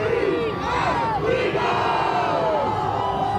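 A dense crowd at the Philadelphia Eagles championship parade cheers and shouts in a steady, loud roar, with overlapping yells and whoops rising throughout, and no distinct speech.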